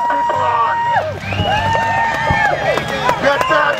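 Spectators at an outdoor obstacle race with mud pits shout and cheer, a lively mix of voices and whoops close by, with an announcer's talk and some scattered clapping.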